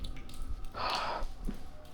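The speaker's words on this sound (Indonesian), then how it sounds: "Ternyata ini suara air netes." A single faint water drip lands with a soft splash amid quiet, echoing tunnel room tone, followed by another small plink.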